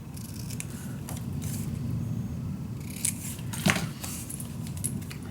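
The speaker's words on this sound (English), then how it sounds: "I need to cut this just a millimeter off." Scissors snip through paper for a Stamperia Vagabond mini album, making several short crisp cuts close by, with one sharper snip standing out near the end, over a quiet room.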